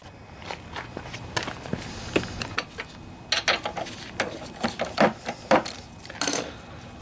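A float bowl bolt being tightened back onto the carburetor of a Briggs and Stratton lawnmower engine: close, irregular metallic clicks, taps and small clanks from tools and parts, with a few sharper clinks, and no one talking.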